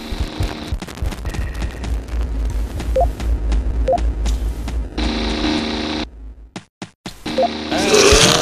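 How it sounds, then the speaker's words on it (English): Looping game sound bug in the top-down shooter Teleglitch: a stuck effect repeats on and on in dense, rapid gunfire-like bursts, loud and continuous, broken briefly by a few short gaps before resuming. "If you access a terminal while a sound is playing, the sound will loop forever while you're reading the terminal."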